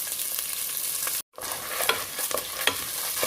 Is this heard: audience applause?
no